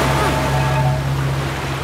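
Rushing river rapids in an animated children's nature series, a steady broad roar of churning water with no breaks, fairly close and even in level.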